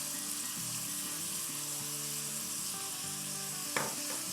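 Chicken frying in a pan gives off a continuous close sizzle under low tonal kitchen hum, with one sharp clatter of stirring near the end and no speech.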